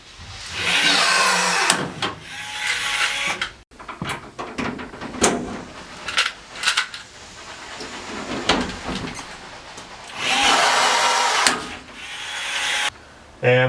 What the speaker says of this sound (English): drill and set these 3 rivets kind of on the inside of the front of the window bay here